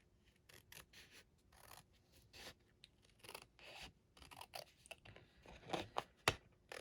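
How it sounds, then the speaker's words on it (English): Scissors snipping through paper at a scrapbooking craft desk. Quiet, irregular cuts and rustles come in short bursts, with a few sharper snips toward the end and no talking. "Oh well, we'll just use scissors today."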